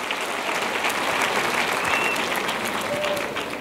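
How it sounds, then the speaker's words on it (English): Graduation audience at a Queensborough Community College commencement breaks into loud, sustained applause, a thick continuous roar of many hands clapping with faint crowd voices underneath. "So we should give all of these members a round of applause."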